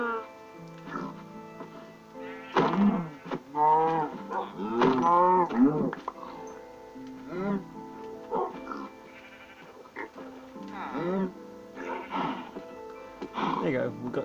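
Minecraft cows moo repeatedly in the game, several long, wavering lows overlapping at varying loudness, with a player talking intermittently over them.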